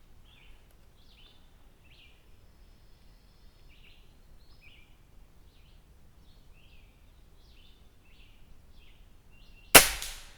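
A Gamo Swarm DX .22 air rifle fires a single sharp, loud shot near the end, after a long quiet stretch of outdoor background with faint birdsong chirping at a distance.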